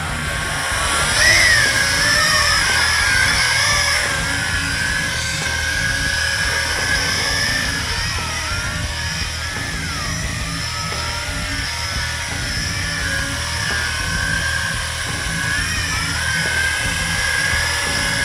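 A YiZhan i8H drone flown at full throttle at night gives a loud, sustained high-pitched buzzing whine that wavers in pitch as the motors rev up and settle, with a steady hum underneath.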